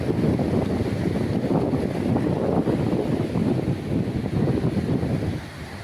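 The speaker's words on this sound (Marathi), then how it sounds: "मित्रांनो लाटांचा आवाज कसा येतोय पहा." Sea waves washing in steadily at Pirwadi beach in Uran, Raigad, a broad continuous surf roar with rolling surges and some wind buffeting the microphone, with no voices over it.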